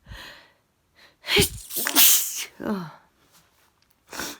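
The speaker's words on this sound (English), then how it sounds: "Been sneezing for about 5 minutes." A close, loud sneeze with a sharp intake of breath before it, followed by a second sneezy burst and a brief exhale.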